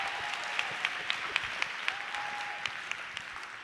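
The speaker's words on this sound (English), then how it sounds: "Can y'all clap it up for her?" Applause from an audience at a school celebration for a high school barbering teacher, a soft, distant, steady patter of clapping with a few sharper individual claps standing out.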